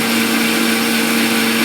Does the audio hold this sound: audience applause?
no